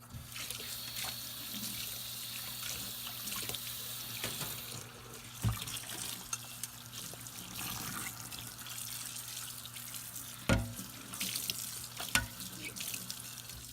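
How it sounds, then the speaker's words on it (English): Dishes and spatulas being rinsed by hand under a running tap in a single kitchen sink, a steady hiss of flowing water broken by occasional clinks and splashes, close and moderately quiet, with no talking. "I usually like to run my hand as I'm rinsing the dishes"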